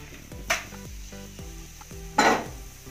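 Masala papad fries in a pan with a faint sizzle under music, broken by two brief metallic utensil clatters.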